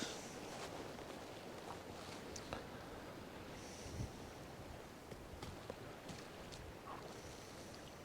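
Strong wind of around 40 mph blows by the sea while fishing, a faint, steady rush and buffeting against the microphone with soft surf underneath.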